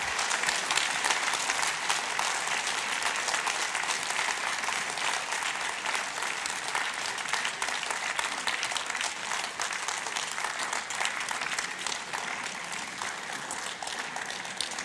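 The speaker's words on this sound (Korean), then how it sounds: "너무 아름다운 우리 물망초 합창단 큰 박수로 맞이해 주시기 바랍니다" An audience at a memorial concert welcomes the Forget-Me-Not choir with sustained applause, a continuous crackle of many hands that holds steady for the whole stretch, without pause.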